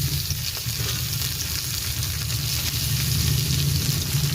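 Tomatoes hiss into browned onions frying in a pan, a steady, loud sizzle that holds evenly throughout with a faint low rumble beneath and no voices.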